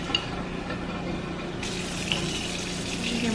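A kitchen tap runs steadily with warm water, a constant close rush of flowing water that brightens partway through as the flow changes.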